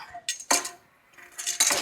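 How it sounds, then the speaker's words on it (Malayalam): In a huge pot of carrot halwa for a crowd, sugar is stirred in with short, loud scraping and clanking strokes of a metal utensil, separated by a brief pause. "അങ്ങനെ പഞ്ചസാര നല്ല ഇളക്കി കൊടുക്കുക."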